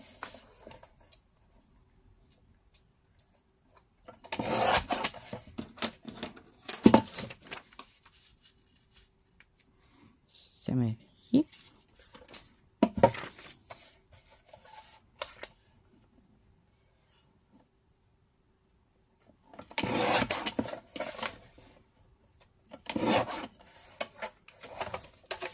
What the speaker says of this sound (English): cut the book page